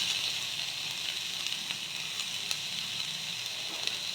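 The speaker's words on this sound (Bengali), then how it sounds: "কাঁচা লঙ্কা, আদা, এগুলো সব আমি একটু সটে করে নেব।" Steady sizzling of carrots, capsicum, green chilli and ginger sautéing in a pan, a continuous bright hiss with occasional small pops and stirring clicks, fairly soft and without voices.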